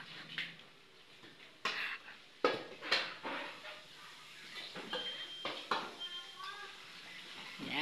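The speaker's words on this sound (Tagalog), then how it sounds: "pagkayaring kumain, naghuhugas ng plato" Dishes being washed after a meal, with scattered clinks and clatters of plates and cutlery against a steady wash of running water or scrubbing, heard fairly close and at moderate level, with no one speaking.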